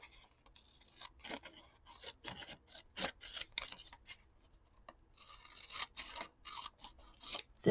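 Scissors snip through collage paper at close range in a quick, uneven series of crisp cuts and rustles, with short pauses between strokes and no voices.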